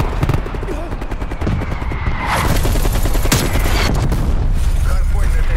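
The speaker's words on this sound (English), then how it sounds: "Artillery inbound." Artillery strike explosions in Call of Duty Black Ops Cold War on PS4, a dense barrage of booms and gunfire that swells midway and stays loud, with a voice speaking underneath.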